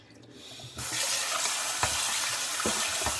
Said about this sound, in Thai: เดี๋ยวเราจะมาซาว ข้าว เป็นข้าวเหนียวหรือข้าวกล้องหรือข้าว ธรรมดาก็ได้นะคะ